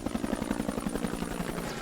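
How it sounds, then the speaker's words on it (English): A military helicopter comes in toward a landing zone during wartime fighting, its rotor beating in a steady rapid thump with a whining turbine above, fairly loud and close with no voices. "a helicopter tried to come in to pick up the dead"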